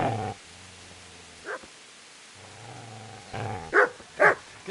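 A dog gives a few barks and growls, loud and close, in short bursts separated by quieter stretches with a low background hum.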